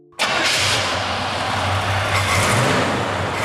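A Chevy 265 Turbo Fire V8 fires up abruptly after a moment of quiet and settles into a loud, rumbling idle, heard close and alone.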